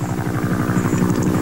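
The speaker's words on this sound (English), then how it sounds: "we just made a sharp bank with a chopper" A military helicopter banks sharply at treetop level over jungle hills in Vietnam, its rotor producing a loud, rapid, steady thumping pulse with a droning engine buzz, close and unbroken.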